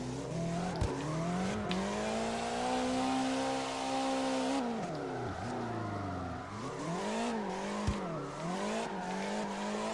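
Car drifting in the CarX Drift Racing Online video game: a revving engine rising and dipping in pitch while tires squeal in long sliding wails, loud and continuous with brief clicks of game sound.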